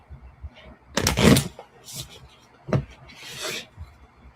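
Tarot cards shuffled by hand in a few soft, papery bursts of rubbing and riffling, close and quiet, with short pauses between them.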